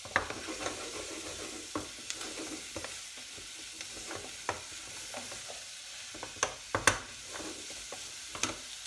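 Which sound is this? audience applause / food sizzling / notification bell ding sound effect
food sizzling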